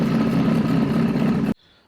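A warmed-up Kawasaki ZX636 motorcycle engine at operating temperature runs at a steady, loud idle for about a second and a half, then cuts off abruptly into near silence.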